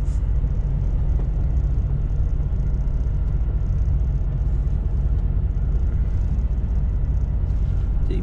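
A truck engine holds steady at 1250 RPM, a constant deep droning rumble heard close up for the whole stretch with no change in pitch.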